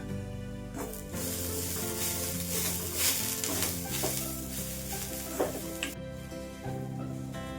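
Dry whole spices, including cinnamon, cardamom and black pepper with curry leaves, sizzle and crackle in a hot pan while being stirred and scraped, with steady clatter and occasional sharper pops close by.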